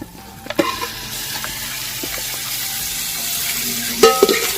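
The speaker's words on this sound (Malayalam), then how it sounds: "നന്നായിട്ടൊന്ന് ഇളക്കി മറിച്ച് കൊടുക്കണം" Chicken chukka masala stirred and frying in a pan, a continuous sizzle with scraping stirs and a few metallic clinks of the spoon, close by and loud.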